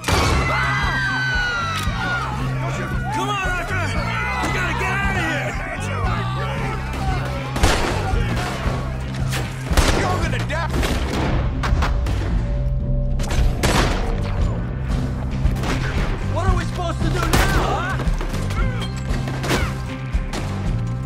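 Gunfire and impacts in a Red Dead Redemption 2 shootout, with repeated sharp shots and crashes over a dense, steady game score and effects, voices occasionally audible in the mix.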